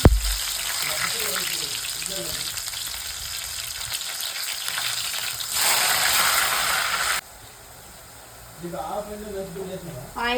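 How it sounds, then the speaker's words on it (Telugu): Bitter gourd pieces sizzle and crackle steadily as they deep-fry in hot oil, with a louder burst of hissing midway and a voice speaking over parts of it. "కాకరకాయలు వేసుకొని బాగా డీప్ ఫ్రై చేసుకోవాలండి"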